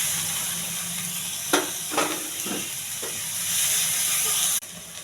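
Steamed beans and carrots dropped into a hot pan of spiced oil with turmeric, chilli and salt, giving a steady close sizzle and hiss with a few sharp bursts as the vegetables land and are stirred.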